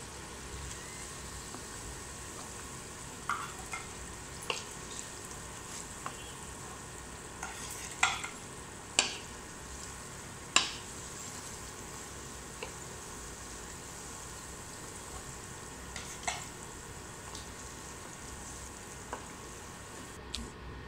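Potato chops deep frying in hot oil, a steady close bubbling sizzle running throughout with occasional sharper pops and crackles, no voices.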